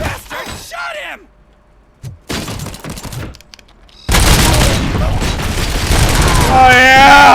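Gunfire in the video game RoboCop: Rogue City breaks out as a loud, sustained burst of shots and booms after quieter moments where a voice is heard.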